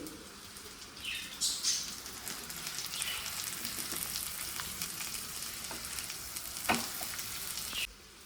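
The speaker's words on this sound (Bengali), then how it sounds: "এবার আমি একটা একটা করে মাছ ফ্রাই করে নেবো" Pomfret fish frying in mustard oil in a pan, a steady soft sizzle throughout with a few louder spits and crackles as pieces are turned, no talking.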